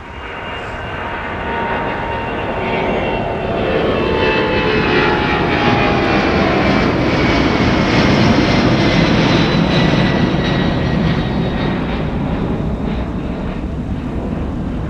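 An airplane at MSP airport in winter roars past, a loud, sustained jet rumble that swells and holds steady, with some wind noise and no talking.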